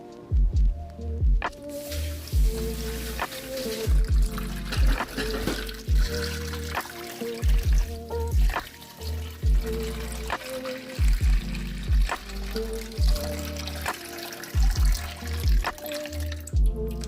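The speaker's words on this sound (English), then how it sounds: "Now I'll be adding some water." Water splashes and trickles steadily into a roasting pan holding beef, with repeated low knocks and clatters of cookware throughout.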